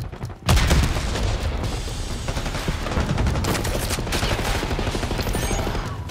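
Frag grenade blast and gunfire in Call of Duty combat: a sudden loud boom opens a dense, continuous barrage of rapid automatic fire and rumbling explosions that holds steady and loud throughout.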